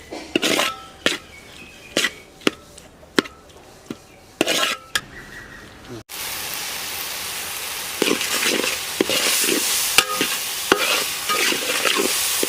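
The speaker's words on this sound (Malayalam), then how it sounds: "തക്കാളി ഉള്ളിയെല്ലാം കൂടി നല്ലോണം മിക്സ് ചെയ്ത് യോജിപ്പിക്കുക" Tomatoes and onions frying in a pan are stirred with a spoon that clacks rhythmically against the metal, at first over a quiet background, then over a loud continuous sizzle, close by with no talk.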